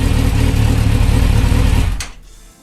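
A four-cylinder motorcycle engine runs loud and steady through its four exhaust silencers, a dense rumbling drone that suddenly cuts off near the end, leaving a brief fading tail.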